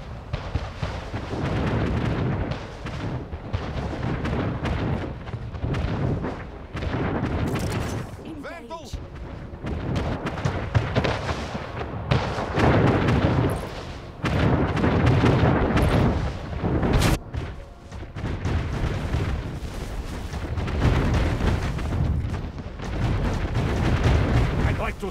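Artillery batteries in the city-building strategy game Anno 1800 fire heavy repeated booms and rumbling blasts, dense and loud across the whole stretch with little pause.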